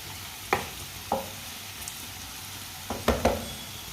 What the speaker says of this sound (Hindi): गाजरों को 3-4 मिनट के लिए मैंने पका लिया है।